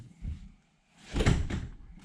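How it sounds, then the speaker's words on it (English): A fold-down seat in a 1948 Ford slams shut with a solid thump, preceded by a softer knock, both close and clear in a quiet space. "that slams down closed, and then the seat bottom folds down in it"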